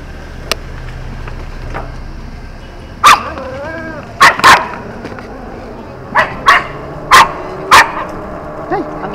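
A dog barks repeatedly in short loud bursts, some in quick pairs, with a whining yelp between barks, close to the listener against steady outdoor background noise.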